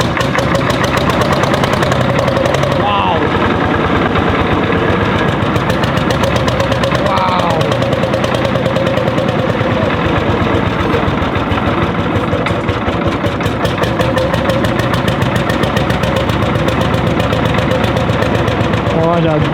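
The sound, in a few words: two-stroke tractor engine running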